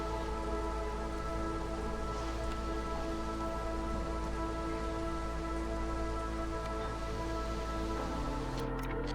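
A steady, even downpour of storm rain in the settlement-building video game Against the Storm, with a soft musical drone underneath and a faint shift near the end.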